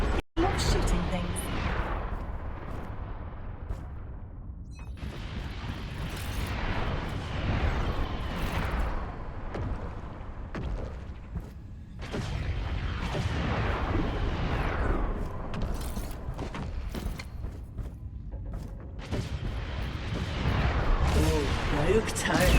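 Turret gunfire in a video game, repeated heavy booming bursts and explosions that swell and fade in waves across the stretch, loud and dense, with game speech mixed in.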